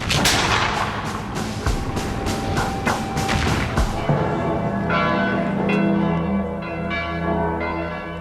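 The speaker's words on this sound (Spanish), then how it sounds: "Napoleón hace que suenen todas las campanas de Leipzig como señal de su victoria." Church bells of Leipzig ring out as a victory signal, a dense, loud clangor of many bells with heavy booming strikes early, settling into sustained ringing tones and scattered peals.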